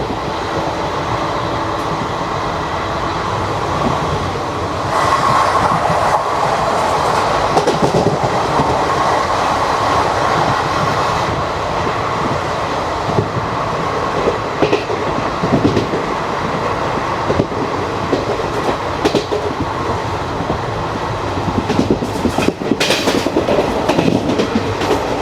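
An express train runs steadily along the tracks with a continuous rumble, rhythmic clickety-clack from the wheels and occasional squeals, heard close from onboard throughout.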